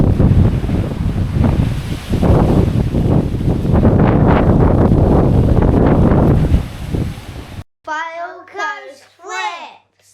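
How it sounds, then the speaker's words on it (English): Heavy rain and strong wind on a horrible Monday morning, with loud, steady rushing and buffeting against the microphone for several seconds, then an abrupt cut to a close, quiet voice talking. "Pouring it down. Windy as anything."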